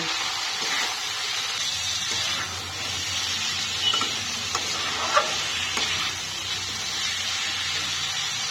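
Turmeric and chili powder fry in a pan for a hilsa fish curry, giving a steady, hissing sizzle close up. Occasional light clicks and scrapes come from the stirring.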